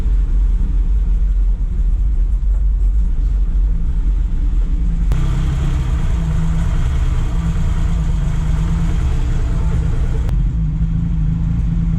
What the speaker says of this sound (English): There it is, idling.